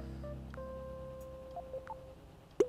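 Phone chimes in Animal Crossing New Horizons as recipe data arrives, a few soft tonal beeps and blips over a low hum, ending with a brighter pluck.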